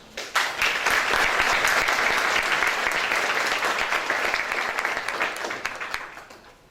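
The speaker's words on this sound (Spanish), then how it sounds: "La recibimos con un aplauso." An audience at an academic symposium on an International Court of Justice ruling applauds to welcome a Catholic education leader: the clapping starts suddenly, holds as a dense steady roar, then thins and fades away.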